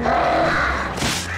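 A crow caws in the Alan Wake game, a short, loud, close harsh call stretched over about a second, ending in a brief burst of noise.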